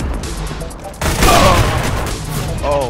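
Gunfire in Counter-Strike: Global Offensive erupts about a second in as a loud, dense burst of shots, close and continuous to the end, with a player's exclamations mixed in.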